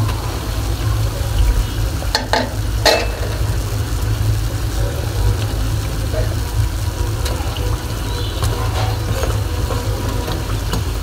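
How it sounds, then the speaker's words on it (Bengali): Puris for bhelpuri deep-frying in a medium-sized wok of oil, giving a continuous dense bubbling hiss with a couple of brief clinks from a utensil, steady and close throughout. "তো এইভাবে সম্পূর্ণ বেলপুরিগুলোই ভেজে নিব"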